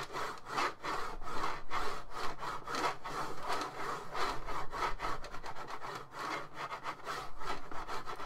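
Mouse of a PS2 Fanatec Gameboard controller scraping back and forth over a textured plastic surface, rhythmic gritty rasping strokes like sawing, close and fairly quiet, repeating steadily with no voices.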